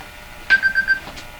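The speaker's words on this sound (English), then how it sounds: "now my phone's ringing" A phone rings nearby in a workshop where an RCA Victor Model 911KG radio is being aligned, giving a short burst of repeated electronic warbling tones.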